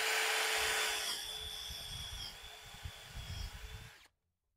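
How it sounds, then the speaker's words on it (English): A power drill hums steadily as it bores a hole halfway into wood for a threaded insert, for several seconds, then cuts off abruptly into silence. "certainly don't want to drill all the way through"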